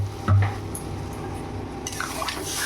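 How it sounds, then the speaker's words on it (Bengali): A little water is poured into cooking papaya curry in a pan, a short splash and gurgle followed by soft sizzling bubbling. "দেখুন এবার আমি এর মধ্যে জল ঢেলে দিতে পারি, অল্প করে জল দেবো"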